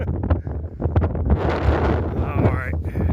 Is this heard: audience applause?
no